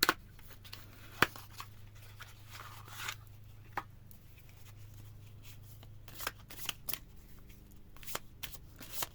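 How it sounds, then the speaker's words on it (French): Tarot cards being shuffled by hand: a run of soft papery riffles and sharp flicking snaps, close and fairly quiet, with no talking. "Je vais tirer quelques cartes de ceux-là."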